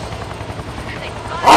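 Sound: helicopter in a video game, XIII

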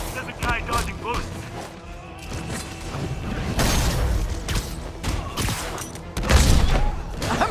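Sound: gunfire in video game Marvel's Spider-Man on PS5

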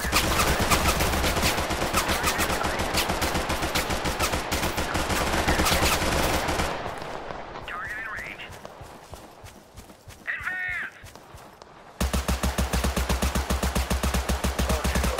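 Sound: gunfire from a gun in the video game Total Conflict Resistance

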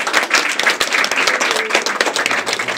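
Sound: audience applause

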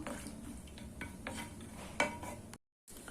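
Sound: roasting chopped cashew nuts in a pan

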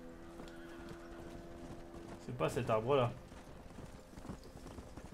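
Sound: horse hooves in Red Dead Redemption video game

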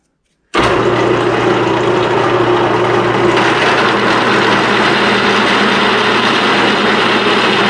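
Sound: drilling a half inch hole

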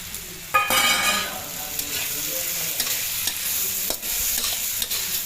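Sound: stirring fried vegetables in a pan

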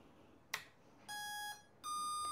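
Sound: motor controller unlocking beeps

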